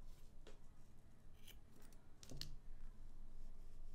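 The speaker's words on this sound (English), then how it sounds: "And then we just cut off our yarns and we are done." Scissors snip through crochet yarn while an amigurumi bee keychain is finished, giving a few faint, close clicks over a quiet background.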